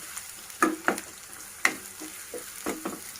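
Onions frying in about three spoons of oil with mustard seeds and cumin: a soft sizzle broken by several sharp pops and spatula scrapes, close by, with no talking.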